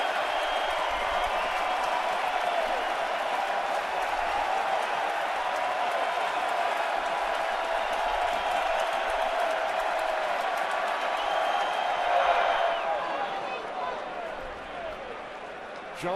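A baseball stadium crowd roars steadily through an ALDS Game 2 playoff game in October 2012. The loud, dense cheering holds for a long stretch, then eases off toward the end.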